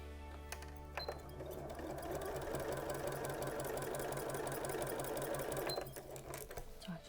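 A sewing machine runs steadily, stitching lines through mouldable batting, with a constant mechanical whir that starts after a second and stops near the end.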